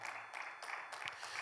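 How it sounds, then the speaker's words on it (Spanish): A church congregation claps for the Lord in a brief, faint burst of applause, uneven and somewhat distant, with no talking over it. "Denle ese fuerte aplauso al Señor"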